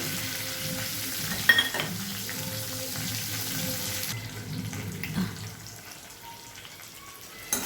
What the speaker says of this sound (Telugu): నేను కొంచెం కరివేపాకు వేస్తున్నాను, కొంచెం కొత్తిమీర వేస్తున్నాను అండి.